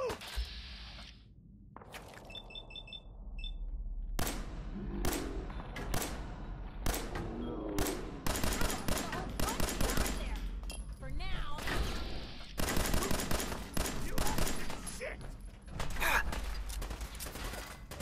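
Gunfire in the Fallout 4 video game, sharp shots scattered across a noisy stretch with a game soundtrack and voices.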